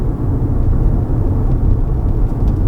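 Inside a 2024 Kia EV9 electric SUV on the move, a steady low road rumble and tire roar fill the cabin, with a soft whir above it and no talking.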